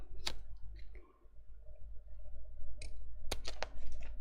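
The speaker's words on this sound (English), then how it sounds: "Let's trim this up now. So I'm going to cut this exactly in half." A paper trimmer slices a sheet of black card in half, giving a few sharp, close clicks and a brief scraping cut with quiet gaps between them. No one speaks.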